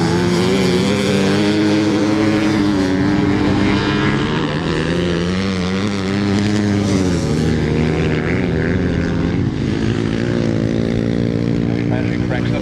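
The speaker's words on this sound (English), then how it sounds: "Kevin Patrick cracks the throttle on" Grasstrack racing motorcycles roaring loudly and continuously around a track at Frittenden, engines droning and revving close by, with a commentator talking over the noise throughout.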